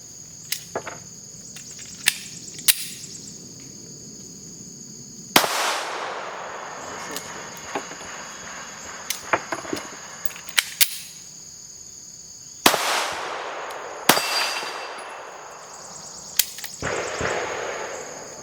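A CR920X pistol fires 147-grain reloads outdoors: sharp, loud shots come singly and in quick pairs at irregular intervals, each with a ringing decay, over a steady high insect-like background.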